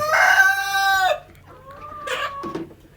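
A desi chicken on a poultry farm lets out a loud, stretched squawk, then short clucks and a brief call follow nearby; no one speaks.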